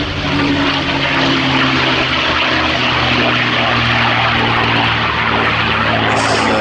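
A North American P-51D Mustang propeller fighter flies at an air festival, its engine drone loud and steady throughout with a deep rumbling tone that holds without break, no voices over it.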